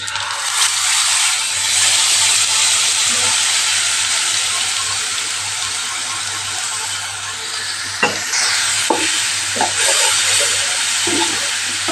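Cumin, a pinch of asafoetida and a loosened dabeli masala paste fry in hot oil, giving a steady broad sizzle with a few sharp spoon clatters and stirring knocks in the second half.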